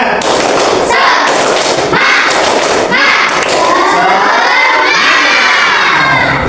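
A loud group of children shouts and cheers together in bursts through a tepuk semangat clapping chant, with thumping claps under the chorus of voices, close and energetic.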